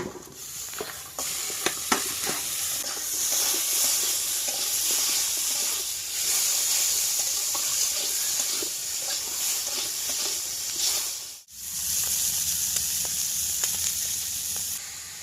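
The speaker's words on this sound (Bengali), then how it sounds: "এবার কিন্তু গেঁচো কাঁকড়াগুলো দিয়ে দেবো" River crabs fry with turmeric and salt in a pan, a loud continuous sizzle with scraping stirs and clicks, broken by a brief dip near the end before it resumes.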